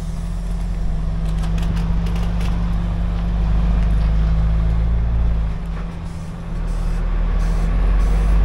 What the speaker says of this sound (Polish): To pracuje ośka z tyłu, to pompowanie pewnie.